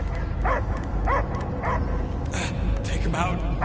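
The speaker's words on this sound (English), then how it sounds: "I hear only barking." Dog barking in the Guardians of the Galaxy video game, several short yips and barks in quick succession amid a low rumbling game background, with voices talking.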